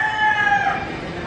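Rooster crowing early in the morning around 6 AM in Southeast Asia, a single loud, close cock-a-doodle-doo call with a bright, rising then falling tone, heard alone.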